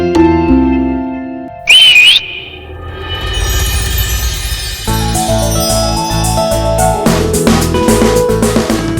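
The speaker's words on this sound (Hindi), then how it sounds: "तूने सीटी मारनी कहां से सीखी?" A person gives a short, sharp, rising whistle that cuts in briefly over the background music of a Hindi TV drama scene, then the music carries on alone.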